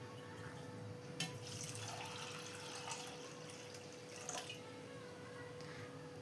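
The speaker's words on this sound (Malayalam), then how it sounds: "ഇതിലോട്ട് അല്പം വെള്ളം ഒഴിച്ചിട്ട് ഇതൊന്ന് സോക്ക് ചെയ്ത് വയ്ക്കണം." Water poured into a bowl of washed chana dal to soak it, a soft steady trickle and splash close by over a quiet hum, with no speech.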